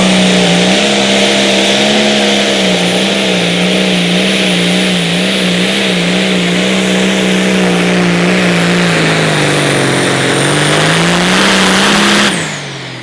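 A 10,200-pound pro stock pulling tractor with a tube frame, truck rear end and Franklin planetaries roars at a steady high rev for the length of a pull at an outdoor Nebraska event, loud and close, cutting off abruptly near the end.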